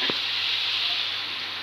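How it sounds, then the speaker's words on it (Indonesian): Spices frying in hot oil with bruised lemongrass and sliced red chili, a steady, close sizzle with a faint clack near the start and no talking. "Sekarang saya tumis bumbunya."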